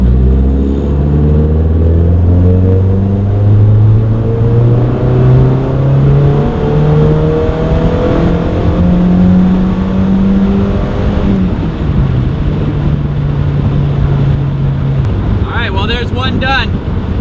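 A 2.5-litre-swapped NC Mazda Miata pulls hard at full throttle, its engine note climbing steadily through the revs, dropping at a shift and rising again, loud and close over steady wind rumble with no talk.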